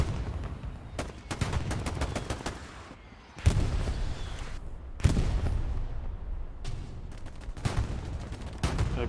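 Rapid rifle and machine-gun fire crackles in Hell Let Loose, with volleys of close and distant shots, a few heavier booms, and steady battlefield rumble underneath.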